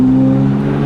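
A tuned Toyota Supra engine idles steadily and close by, a low, even hum with a strong constant drone and no revving, alone without talk.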